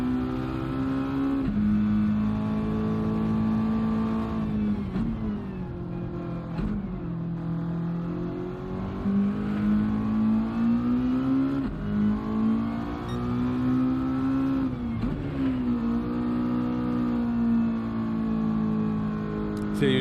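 A race car in Gran Turismo 7 holds a loud, steady engine drone that climbs and dips in pitch through gear changes and handbrake slides, heard from close up and continuous throughout.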